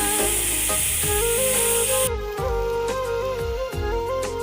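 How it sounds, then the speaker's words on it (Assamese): A pressure cooker holding black lentils lets off its last whistle as a strong, steady hiss of steam for about two seconds, with melodic music running underneath throughout. "আৰু এতিয়া কুকাৰত দিয়া মাটিমাহ হৈ গৈছে, এইটো লাষ্ট চিটি মাৰিছে।"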